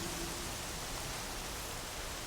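Steady rain in Horizon Zero Dawn, a broad even hiss of downpour filling the scene at constant level, heard alone without voices.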